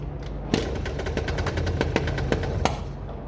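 Derbi 100cc two-stroke motorcycle with no airbox fitted, kicked over on a first start attempt, giving a rapid, uneven string of sharp popping firing pulses over a steady low rumble, close and fairly loud for a few seconds.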